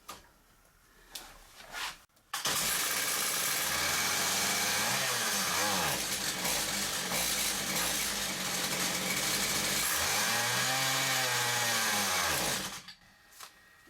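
After a few pulls, a small two-stroke Stihl chainsaw engine with a blocked exhaust roars loudly, its pitch rising and falling with revving, then sputters and cuts out to near silence.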